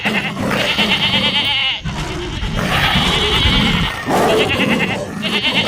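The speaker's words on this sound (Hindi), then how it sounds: "बकरी जान छोड़ती आवाज में चीखी" A goat is attacked by a leopard and screams in pain, with loud, harsh, drawn-out bleats repeated close by and barely pausing between cries.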